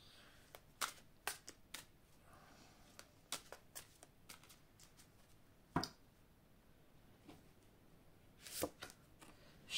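Oracle advice cards being shuffled, heard as soft, quiet snapping and flicking taps at irregular intervals, close up, with one or two louder slaps.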